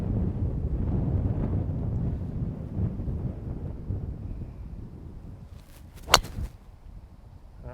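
Wind gusting across a golf course on a 460-yard par 4, a steady low rushing roar against the microphone that eases slightly, with one sharp brief crack near the end.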